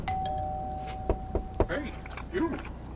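A doorbell chimes at the house door in the horror video game Fears to Fathom, Carson House, a thin sustained tone followed by soft clicks and low knocks, with voices murmuring underneath.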